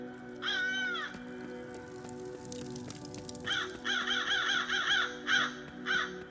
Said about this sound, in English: See how these crows actually sound.